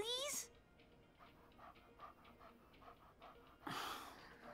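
A puppy pants in rapid, even breaths in the video game Life Is Strange 2, a soft rhythmic huffing heard between brief bursts of character voices.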